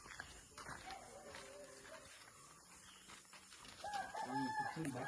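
Native country chickens clucking and calling outdoors in a village, with faint repeated clucks and a longer crowing call near the end, partly under a voice talking.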